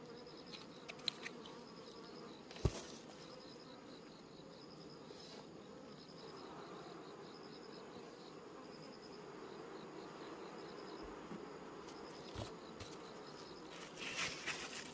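Honeybees buzzing at a beehive whose colony is calm but may be without its queen, a steady faint insect hum throughout with a few brief clicks and knocks, no voices.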